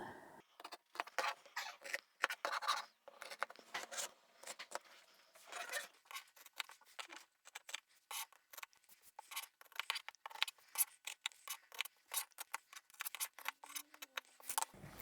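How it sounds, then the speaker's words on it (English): Scissors snip through the corners of a fabric pouch in quick, close, crisp cuts, repeated irregularly throughout against an otherwise quiet room. "We can cut those corners out."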